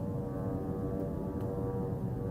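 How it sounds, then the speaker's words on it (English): Drones flying overhead during the Gaza war, a low, steady droning hum with a sustained engine tone, faint and continuous with no speech. "this is the drone."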